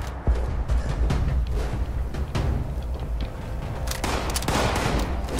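Rifle fire in the Fallout 76 video game: a series of sharp, irregular gunshots in quick succession over several seconds, moderately loud against game ambience.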